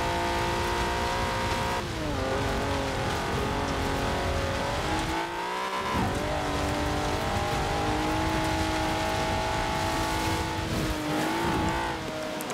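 A 1992 Alfa Romeo 155 Q4 in stock condition driving in Forza Horizon 4, its engine droning loud and steady with rising and falling revs through gear shifts and a brief dip off the throttle midway.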